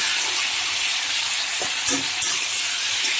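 Stuffed pointed gourd (potol) fries in oil with a steady, close sizzle and hiss, broken by a few soft clinks of a utensil near the middle.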